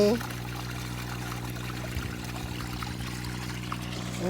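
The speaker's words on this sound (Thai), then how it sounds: "แล้วก็เปิดน้ำใส่" Irrigation water is let into a rice paddy field, a steady pouring, trickling wash that holds at an even level from start to finish with a low hum beneath it.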